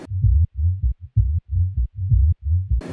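Uncompressed synth bass line thumping in short, deep pulses with gaps of near silence between them and uneven loudness, heard alone.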